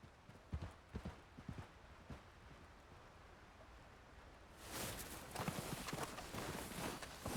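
A horse's hooves clop along in the video game Red Dead Redemption 2, a handful of uneven steps at first, then a denser, louder stretch of hoofbeats with wind noise.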